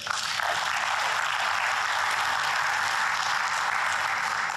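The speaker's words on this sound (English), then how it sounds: "Can you give them another round of applause for that?" Dense, sustained applause from an audience, even and loud throughout, with no voices over it.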